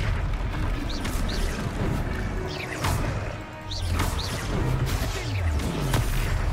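Confringo fire spell cast during combat in Hogwarts Legacy, a string of loud crashing blasts and whooshing impacts over a dense, continuous game battle backdrop.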